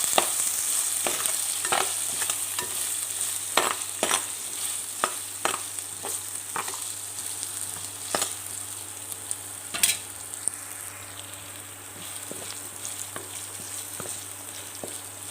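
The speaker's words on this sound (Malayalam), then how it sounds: "ചെറിയ ഉള്ളി ഇട്ട് കൊടുക്കാം നന്നായി ഒന്ന് ഇളക്കി കൊടുക്കാം" Shallots and curry leaves sizzle steadily in hot oil for a beef pepper curry, while a spoon scrapes the pan in a string of sharp clicks and stirs that fade slightly toward the end.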